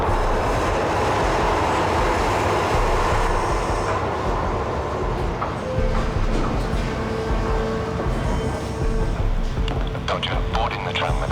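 A tram running on rails, a loud continuous rumble of wheels with squeals and rattling clicks near the end, with a voice talking over it.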